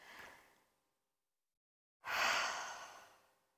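A big breath is sighed out during breathwork exercise, one short breathy exhale followed after a pause by a longer, fuller exhalation that fades gradually, close and alone.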